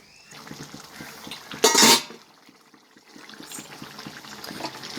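A spoon stirs cooked country chicken in a pan on a stove, with soft scraping and shuffling and one loud metallic clatter near the start.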